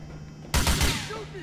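A short burst of gunfire in GTA IV: several loud, close shots in rapid succession, followed by a brief ringing decay.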